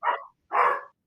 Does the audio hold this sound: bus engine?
no